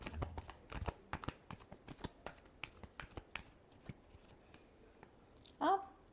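Tarot cards being shuffled by hand give a quick series of crisp flicks and riffles, close and fairly quiet, ending with a brief louder rustle.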